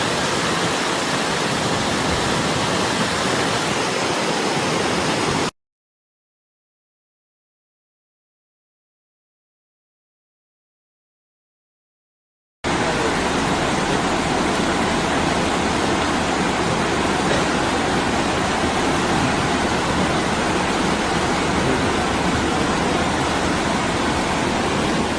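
Fast-moving brown floodwater rushes through city intersections in South Korea after super rainstorms, a loud, continuous broadband roar that cuts to silence for several seconds midway before resuming.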